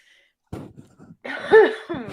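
A few rough, close coughs come in quick succession, followed by a strained throat-clearing sound.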